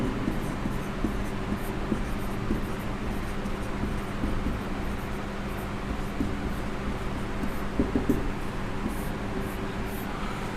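Chalk or marker writing on a board in a classroom, with scratchy strokes and taps in short bursts over a steady low background hum.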